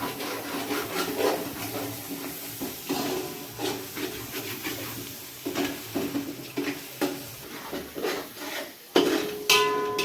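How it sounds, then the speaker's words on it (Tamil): A spoon stirs and scrapes biryani around the bottom of a pot, with repeated rubbing, scraping strokes at an uneven rhythm and a light sizzle, close and fairly loud with no talk. "இப்படி கிண்டி விட்டுக்கிட்டே இருக்கணும்"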